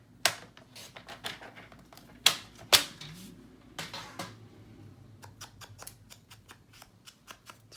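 Scissors trim patterned paper for a handmade memory box, a run of crisp snipping cuts close up, a few louder strokes early on, then a quicker string of short snips near the end.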